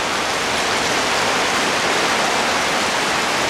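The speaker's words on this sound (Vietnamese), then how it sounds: "Gần như chiều nào cũng mưa." Heavy rain pours steadily on a tropical afternoon during the rainy season, a loud, dense, unbroken hiss that stays even throughout with no voices.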